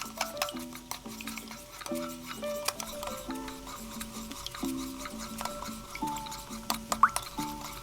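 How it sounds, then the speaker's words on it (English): Kale being tossed with red cabbage in a bowl, heard as soft rustling, squishing stirs and light clicks of a utensil at a relaxed, uneven rhythm, with faint background music. "I added the kale to the bowl with red cabbage and mixed that to combine"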